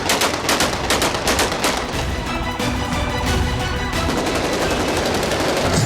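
Rapid bursts of AK-47 automatic gunfire ring out as Syrian rebels celebrate in the streets, loud and continuous with dense overlapping volleys and no talk.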